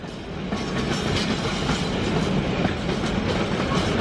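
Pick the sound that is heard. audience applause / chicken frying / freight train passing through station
freight train passing through station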